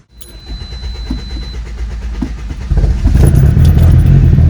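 A fully built 2006–2011 Honda Civic with an R18 engine, suffering overheating and a blown head gasket, starts up: a brief crank leads into the engine catching partway through, then a loud, steady idle close by.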